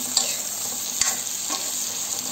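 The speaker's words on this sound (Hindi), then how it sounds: "फ्लेम हमारी तेज है इसमें, तो थोड़ा थोड़ा हिलाते जाइए।" Chopped tomatoes stir-fried in a pan over a high flame for restaurant-style paneer butter masala, a steady bright sizzle running throughout with a few soft scrapes of stirring, close and alone.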